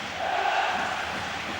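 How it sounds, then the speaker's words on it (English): A basketball arena crowd at the 1993 EuroBasket semi-final between Russia and Croatia gives a steady, moderately distant roar of cheering and shouting, swelling slightly early on, with no clear speech on top. "the crowd really heating up now"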